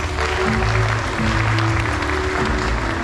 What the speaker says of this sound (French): Je vous demande de faire un tonnerre d'applaudissements à Green.